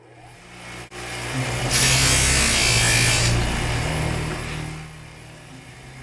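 Grinder shaping a sword pommel, a close abrasive hiss that swells in over a low motor hum, peaks harshly for about two seconds, then tapers away.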